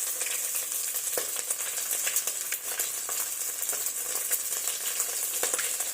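Onions frying in a pan, a steady close sizzle and crackle with occasional sharp clicks of stirring, no talking.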